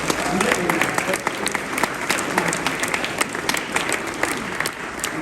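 Audience applauding the artists at a scholarship awards event, a continuous even burst of many people clapping with sharp individual claps standing out and no talk over it.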